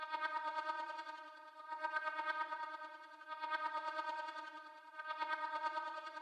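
Sampled sound textures from the Vocalize 2 Gravity Pack 4 library, made for a dark orchestral drill beat, form a wavering, bright sustained tone that swells and dips in four repeating pulses, alone and fairly quiet.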